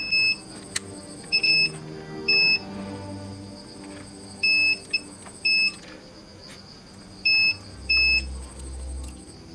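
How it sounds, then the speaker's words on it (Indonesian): A multimeter buzzer sounds during a continuity test on a switch in a vintage JVC RC-M70W boombox tape recorder, with a series of short, sharp, high-pitched beeps in irregular bursts over quiet bench noise. "buzzer pada multimeter."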